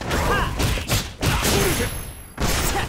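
Dense, loud bursts and impacts from Ryu firing Hadouken fireballs in a Street Fighter-style bout against Rashid, with repeated blasts and crashes layered over game music.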